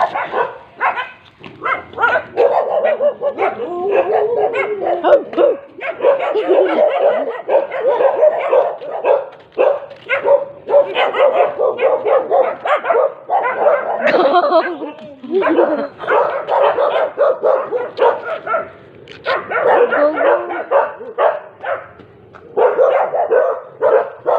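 A dog barks repeatedly nearby, with yips and whimpers mixed in, while people talk and shout over it almost continuously.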